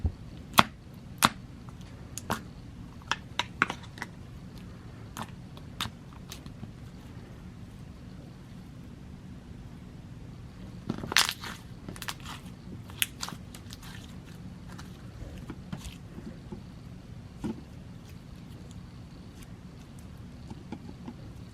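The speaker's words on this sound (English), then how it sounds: "it had some different colors and sizes of foam beads in it, and it just made it really, really crunchy" Crunchy slime mixed with foam beads of different colors and sizes is squeezed and played with, giving scattered sharp crackles and pops, mostly faint with a few louder snaps, with no talking.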